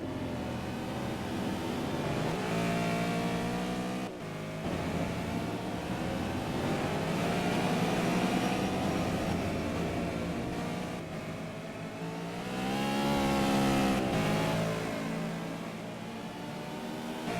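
BTCC-style touring cars race at Donington, engines rising and falling in pitch as they pass, a fairly faint continuous roar with surges around the middle and end.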